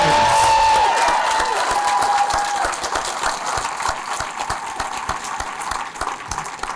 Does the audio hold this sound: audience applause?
yes